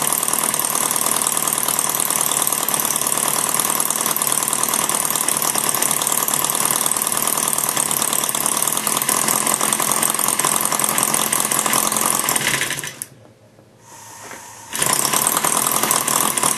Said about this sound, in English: Here, hitting on all 4 cylinders now.